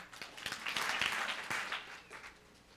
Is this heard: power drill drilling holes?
no